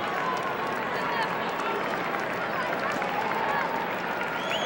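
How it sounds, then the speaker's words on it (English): A large crowd fills a domed stadium at a 1990 Syracuse versus Johns Hopkins lacrosse game, making a dense, continuous roar of cheering and clapping that holds steady and loud throughout. "Dale, look at the crowd."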